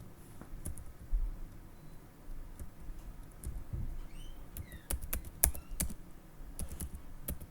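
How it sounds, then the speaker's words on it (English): A computer keyboard clatters with quick, uneven bursts of keystrokes as a command is entered in a Kali lab session, close and fairly quiet with no talking. "I'm typing the command again."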